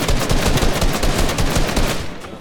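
Gunfire in a video game, a rapid loud burst of closely spaced shots in a steady automatic rhythm, near and dominant, trailing off at the end.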